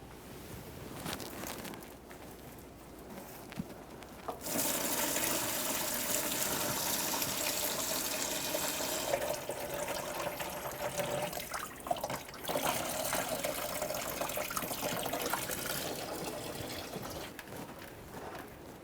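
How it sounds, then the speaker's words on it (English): Engine coolant gushing steadily from a disconnected lower radiator hose into a collection bucket on a 2002-2009 Chevrolet Trailblazer, a loud continuous splashing pour with faint handling noises before it starts. "we'll control that fluid down into our collection bucket"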